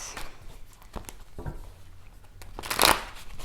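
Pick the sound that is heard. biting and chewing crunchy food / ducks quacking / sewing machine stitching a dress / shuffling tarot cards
shuffling tarot cards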